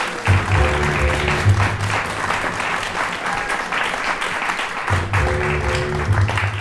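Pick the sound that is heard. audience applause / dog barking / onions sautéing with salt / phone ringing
audience applause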